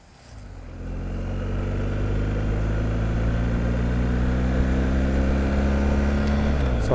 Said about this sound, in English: So I'm out on the bike at night.